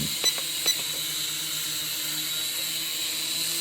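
A small quadcopter drone hovering, giving a steady high-pitched motor whine with faint clicks at the start, continuous and fairly close, no talking.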